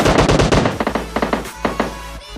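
An M762 rifle fires in PUBG Mobile, a rapid burst of sharp, loud shots followed by a few spaced single shots, with no talk over it.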